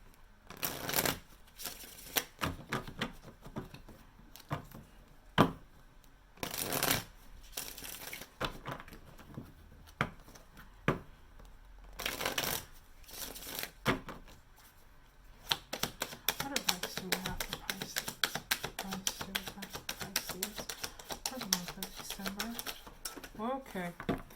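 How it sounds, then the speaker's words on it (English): Tarot advice cards being shuffled by hand in a quiet room: repeated crisp riffling bursts of a second or so each, close and fairly loud, followed by a longer run of softer flipping and slapping cards with a voice talking over them. "I'm going to just pull a few advice cards for you guys."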